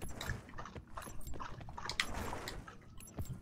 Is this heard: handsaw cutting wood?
no